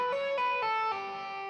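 A whole tone scale is played on guitar, a few clean sustained notes stepping downward one after another, ringing with a dreamy, effect-coloured tone.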